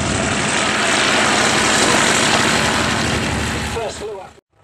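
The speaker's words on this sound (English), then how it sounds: "Fox, prized his Fiesler Storch as the best thing for getting him around the battlefields." Vintage Fieseler Storch aeroplane flying at an air show, its propeller engine droning loud and close with a commentator talking over it, the engine note easing and fading before cutting off abruptly near the end.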